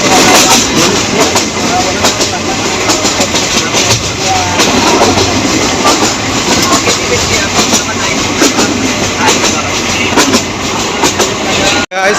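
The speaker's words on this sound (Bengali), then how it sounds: "এই তিস্তা ট্রেনটি এক ঘন্টার উপরে লেট করছে" The Teesta passenger train rolls by close and loud, a dense roar of wheels and carriages with rapid rhythmic clatter over rail joints, sustained for the full length before cutting off abruptly.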